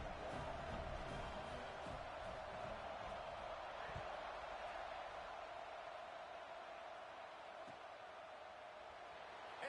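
A stadium crowd in the NCAA 26 college football video game roars in a steady, broad wash of cheering, continuous and moderately loud, with faint commentary mixed underneath.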